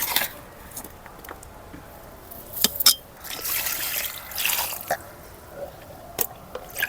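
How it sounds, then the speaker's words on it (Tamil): Water is poured gently by hand onto potted plants, including beans, in a rooftop terrace garden. Soft trickles and splashes come with scattered drips and patters, quiet and close. "ரெண்டு சத்து தண்ணி ஊற்றி அடுத்ததாக எல்லா செடிங்களுக்கும் அப்படியே கையை வச்சு அப்படியே பொறுமையாக ஊற்றுறேன்."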